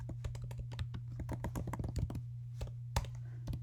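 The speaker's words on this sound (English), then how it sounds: "type an equation." Rapid, uneven key clicks as an equation is typed on a computer keyboard, close and crisp over a steady low electrical hum, with no talking.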